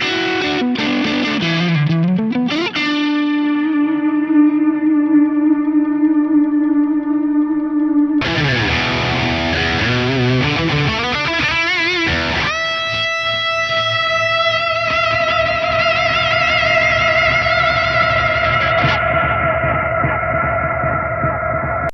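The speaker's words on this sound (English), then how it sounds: "I'm basically going to have infinite feedback and a much higher delay level" High-gain distorted electric guitar played through a Fractal FM3 delay pushed to infinite feedback with a high delay level: sustained chords and sliding notes that smear into a dense, self-repeating wash, loud and continuous with no talking.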